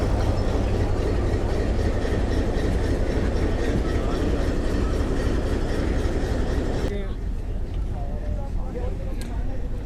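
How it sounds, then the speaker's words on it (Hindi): Locomotive 8308 hauls a safari train along the Rawalpindi to Attock Khurd line, a loud continuous rumble and rattle of wheels on rails that drops off sharply near the end, leaving quieter clatter and a faint squeal. "अभी ये लोकोमोटिव 8308 वापस जाएगा अटक सिटी"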